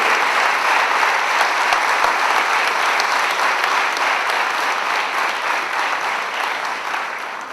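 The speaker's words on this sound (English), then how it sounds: "Round of applause" A large reunion audience of IIM Ahmedabad's class of 1984 gives a loud, sustained round of applause, dense clapping that runs steadily throughout and tapers slightly at the end.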